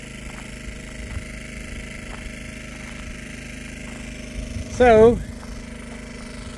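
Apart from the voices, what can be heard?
generator running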